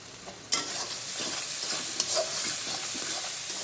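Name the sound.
onions frying in a pan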